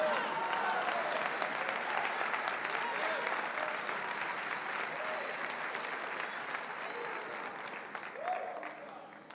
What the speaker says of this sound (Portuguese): Tem um crente para dar uma salva de palmas ao Senhor?